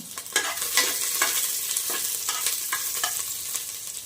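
Chopped half onion and curry leaves fry in hot oil, a close, crackling sizzle with repeated sharp spits and scraping stirs scattered through it.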